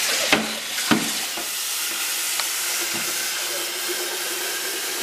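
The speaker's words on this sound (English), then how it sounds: "fill your kettle with cold water from the tap" Cold tap water gushes steadily into a kettle with a broad hiss, a couple of knocks at the start, heard close with no talking.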